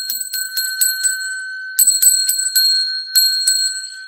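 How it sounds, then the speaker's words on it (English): A small bell, likely a desk or bicycle-style bell, rings in bright metallic strikes, eight or more in quick uneven bursts across the stretch, loud and close with no talking. "let's ring the bell for you, okay, basement dwellers. 10 rings of the bell for 100 thumbs up."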